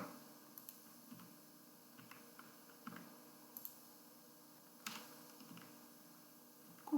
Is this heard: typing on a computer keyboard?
yes